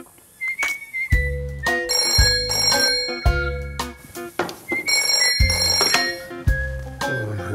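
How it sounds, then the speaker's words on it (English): An old-style telephone bell ringing loudly nearby in repeated bursts of shrill metallic trills separated by short pauses, with no voices over it. "When Jess rang me on the phone"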